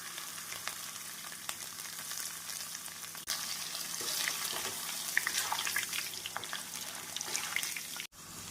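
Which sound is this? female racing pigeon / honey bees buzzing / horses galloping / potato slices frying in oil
potato slices frying in oil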